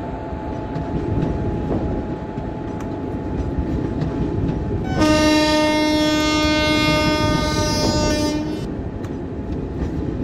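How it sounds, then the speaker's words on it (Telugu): Train running at speed in an Indian train simulator game: a steady rumbling roll with a loud multi-tone horn blast lasting several seconds midway, no voices. "ఓ ట్రైన్ చాలా స్పీడ్గా వెళ్తుంది."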